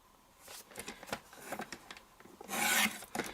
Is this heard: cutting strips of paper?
yes